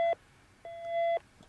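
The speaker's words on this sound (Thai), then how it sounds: "เมื่อกี้มีโทรศัพท์เข้ามาต้องขออภัยนิดนึงฮะ" An incoming telephone call ringing: two clean electronic ring tones, a short one and then a longer sustained one, sounding close and fairly loud over a quiet background.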